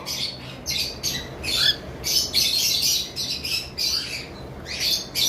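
Cockatiel from a breeding pair squawking in repeated harsh bursts, close and fairly loud, with short gaps between calls.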